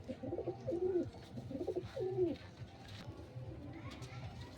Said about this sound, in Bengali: এটা পাঞ্জাবি মালবাহী পায়রা